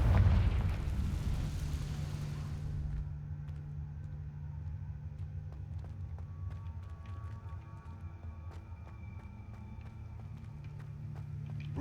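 A Confringo blasting spell in Hogwarts Legacy bursts loudly at the start, then decays into a long low rumble with scattered small crackles and no speech.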